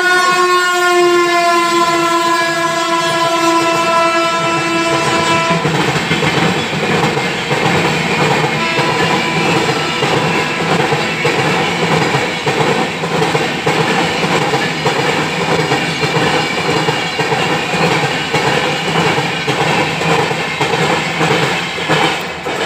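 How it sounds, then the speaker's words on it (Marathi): A train passes a railway station beside a shop, its horn sounding with steady sustained tones for the first few seconds, then a loud, continuous rumble and clatter of wagons rolling by close at hand. "माझं शॉप रेल्वे स्टेशनला आहे, त्याच्यामुळे व्हिडिओ बनवताना कधीतरी गाडी मध्यंतरी येतेच"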